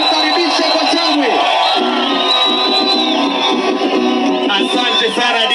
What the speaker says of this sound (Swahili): tumkaribishe kwa shangwe.